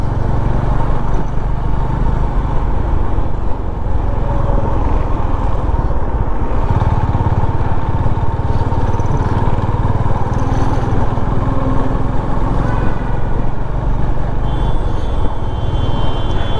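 A motorcycle engine drones steadily through a solo ride from Mumbai toward Karad, a constant close hum with wind rush, holding one even pitch throughout and without voices.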